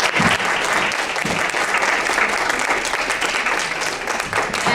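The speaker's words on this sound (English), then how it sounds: "I want to have everyone once again applaud our contributors" Steady, dense applause from an audience at a League annual meeting, loud and sustained throughout with no break, a full room clapping together.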